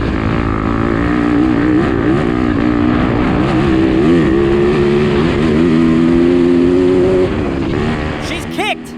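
A stock Yamaha YZ250F dirt bike in fifth gear during a harescramble race on a slippery, cold day, a loud, close, steady engine drone that holds nearly level before wavering and fading near the end.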